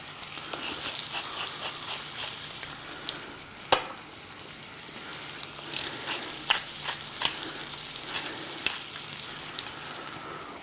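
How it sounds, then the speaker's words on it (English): A beef roast searing in foamed butter in a hot pan, a soft, moderately quiet sizzle with occasional sharper pops and crackles throughout. "As soon as the butter stops foaming, and you can see and hear it, we'll put in the roast."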